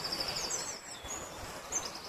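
Faint high bird chirps repeat quickly over a steady outdoor hiss, with another brief call near the end.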